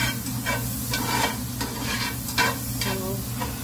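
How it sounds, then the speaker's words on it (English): Food for butter paneer masala sizzles steadily in a hot pan while a utensil stirs and scrapes, the crackle rising in short bursts. "it's sizzling"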